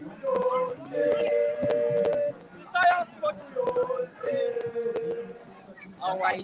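A crowd of Unity party supporters chants and sings at a Liberian presidential campaign rally. Rhythmic phrases rise and fall in call-like bursts, with sustained sung notes and short pauses between lines.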